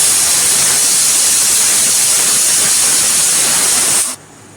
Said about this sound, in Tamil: நாலு விசில் வந்துச்சு, ஆஃப் பண்ணிக்கலாம்.